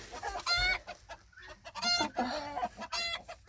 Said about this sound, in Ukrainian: Знесла моя курочка ось.